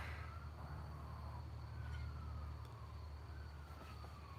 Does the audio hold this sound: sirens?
yes